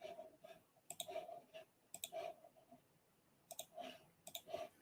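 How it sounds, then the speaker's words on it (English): Sharp mouse or keyboard clicks come in irregular clusters, some quick pairs and triples, fairly close over a quiet room with a faint steady tone underneath. "You can hear me clicking."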